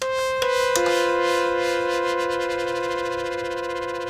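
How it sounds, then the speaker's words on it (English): A small synth plays a couple of bright sustained notes that waver with gentle vibrato and slowly fade. "And then I'm gonna play this much smaller synth and add some vibrato."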